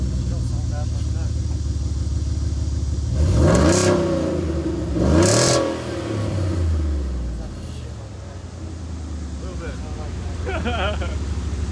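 A truck engine revs with its exhaust running without a muffler, giving two loud, rising, raspy bursts over a rumbling idle, with someone talking at points.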